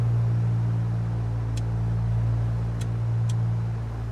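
A light aircraft piston engine in MSFS 2024 runs at steady run-up power during a magneto check, a loud continuous drone with a strong low hum that barely changes.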